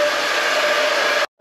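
Noisy blower or hair dryer in a hotel room whirs with a loud, steady airy roar and a faint tonal hum, then cuts off abruptly near the end.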